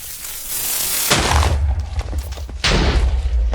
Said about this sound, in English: It's just an explosion.